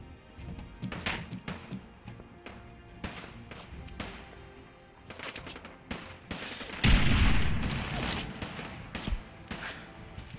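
Bursts of Fallout 4 video game gunfire crack repeatedly, some single shots and some rapid volleys, with a louder blast midway; no talking.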